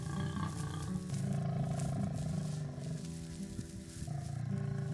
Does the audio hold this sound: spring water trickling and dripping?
no